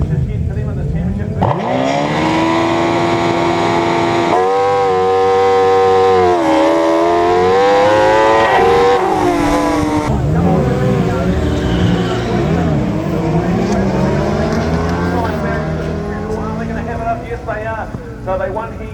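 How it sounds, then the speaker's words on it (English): Sidecar racing motorcycles roar off the line at the start of the New Zealand Sidecar Grand Prix at Levels Raceway, Timaru, engines screaming and rising in pitch, loud and continuous throughout. "We've got the New Zealand Sidecar Grand Prix race on the line"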